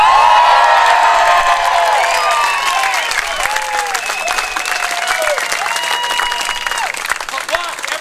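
A street audience at a Key West performance breaks into loud clapping, cheers and whoops, the applause swelling near the start, then continuing with scattered shouts and voices.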